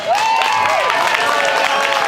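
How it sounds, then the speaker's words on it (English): Comedy club audience at an outdoor lakeside show breaking into a short burst of clapping and cheering, brief and lively with a few whoops over the applause. "Clap if you don't have any kids."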